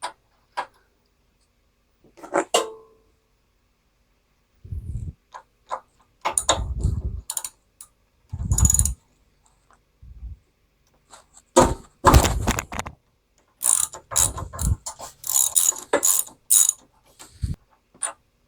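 A socket wrench works a spark plug out of a generator engine, a 13/16 socket giving scattered bursts of ratcheting clicks and metallic scrapes separated by quiet gaps.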